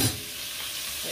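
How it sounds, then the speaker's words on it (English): Shrimp hitting hot oil for a noodle and vegetable stir fry, giving a loud, dense, continuous sizzle that holds evenly throughout the short burst. "I'm adding my shrimp to the oil."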